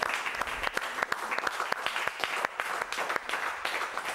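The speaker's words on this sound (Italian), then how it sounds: "Bentornati a Calciomania con l'applauso degli esordienti della Mantovana." Young youth-level football players from Mantovana give a steady round of applause, dense overlapping claps from a group at close range lasting throughout.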